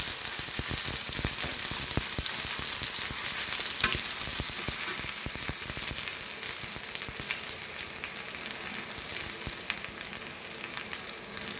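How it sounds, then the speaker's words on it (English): Ridge gourd peel frying in a pan on a low flame, a loud, dense, crackling sizzle with constant popping spatter throughout. "Fry this for few minutes."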